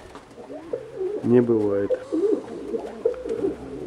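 Domestic pigeons kept for a show coo close by in a loft, a rolling, throaty call that rises over someone talking and steady background murmur.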